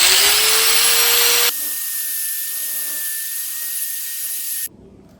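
An angle grinder or similar power tool grinds metal off part of a Toyota Supra rear big brake kit: a loud, harsh grinding roar, then a steadier, quieter whine before it cuts off abruptly near the end.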